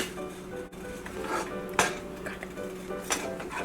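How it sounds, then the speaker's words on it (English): A spoon scrapes and clinks against a pan while thick cashew burfi mixture is stirred, with steady close scraping and a few sharper knocks, no talking. "keep mixing all around, do a good method of mixing, and make it into a nice thick mixture"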